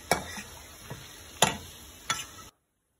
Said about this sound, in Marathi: ते छानपैकी त्याला भाजून घेऊया आपण.